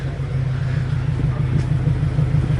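A deep, steady exhaust rumble from an idling Subaru BRZ with an HKS front pipe, close and continuous, with no voices.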